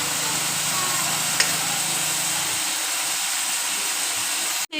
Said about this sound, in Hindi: अभी तक हमने लहसुन डाल के और चिकन डाल के इसको जो है भून रहे हैं